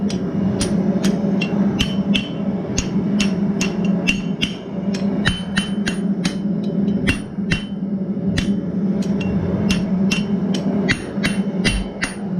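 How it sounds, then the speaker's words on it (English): Steady metallic hammer strikes on an anvil horn ring out one after another at a brisk, regular pace over a low background hum, each hit sharp and bright, as a blacksmith forms a squirrel cooker. "So hammer it all the way around on itself."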